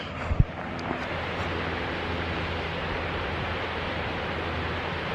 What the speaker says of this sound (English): I don't know if y'all can hear that, but that water going crazy.